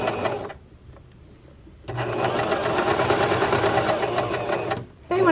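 A domestic sewing machine stitches elastic onto a bra cup, a steady close whirring run of stitches that starts, pauses briefly and resumes, with a short stop near the end.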